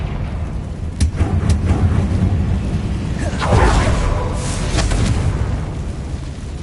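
Confringo spell explosion in a video game, a burst of booming, crackling blasts with sharp pops and a rolling rumble, loud and close, over a dense game soundscape.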